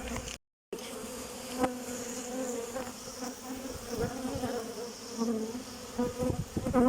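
Dense, steady buzzing of many bees swarming close around an opened beehive, a constant insect drone that swells slightly in places, with no talking.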